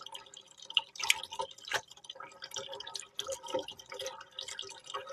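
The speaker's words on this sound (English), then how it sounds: "you're going to take this and you're just going to kind of move it around in the water" Fabric is moved around in a pan of dye water, giving close, irregular sloshing, soft splashes and dripping that come in uneven bursts, with no voices.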